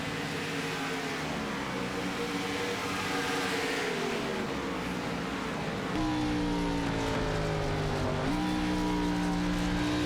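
Race car engine in a racing video game at Motegi, roaring steadily with sliding harmonic pitch, then dropping sharply at two downshifts followed by renewed revving, loud and close with no talk.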